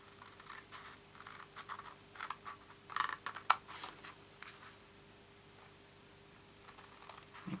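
Large scissors snip through paper in a quiet series of short, crisp cuts, close by, with soft rustling between them.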